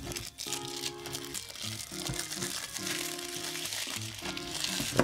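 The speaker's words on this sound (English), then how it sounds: "Okay, that's unwrapped." Plastic packaging crinkles and crackles close up as it is unwrapped from a Wismec Reuleaux RX200S vape mod, in busy handling bursts over a bed of music.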